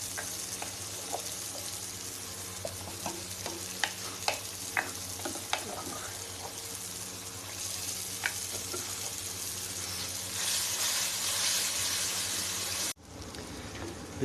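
Tomato, ginger, green chili and garlic paste fries in ghee for green beans, a steady close sizzle with scattered sharp pops and stirring clicks that swells louder near the end before cutting off.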